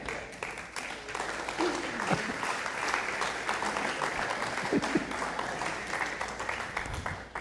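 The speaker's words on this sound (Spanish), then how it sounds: "Demos esa ofrenda de palmas más fuerte" A church congregation applauding in a steady, dense wash of clapping that continues for several seconds at moderate distance, with faint voices mixed in.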